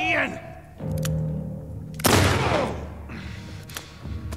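Gunfire in The Last of Us Part 2 on PS5, several close, sharp shots and booming bursts cracking out amid frantic in-game voices and shouts.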